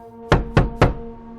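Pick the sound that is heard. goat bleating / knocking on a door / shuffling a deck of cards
knocking on a door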